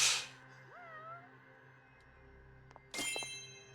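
A cat meows once with a soft, rising-falling cry in the Judgment video game, over a quiet humming game ambience, framed by brief bursts of other game sounds at the start and end.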